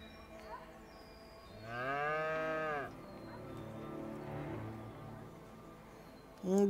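A cow on the farm in A Way Out lets out one long, clear moo of about a second, followed by quieter low murmuring sounds.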